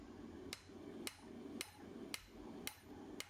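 Hammer blows on hot steel at an anvil while a blacksmith hand-forges a hot set tool, six sharp evenly spaced strikes roughly half a second apart over a steady background hum.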